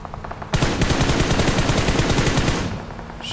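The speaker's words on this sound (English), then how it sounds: "Shots on the road here." Automatic gunfire in the PUBG Mobile battle royale game on the desert map Miramar, a loud, dense burst of rapid shots lasting about two seconds, with lighter scattered shots before and after.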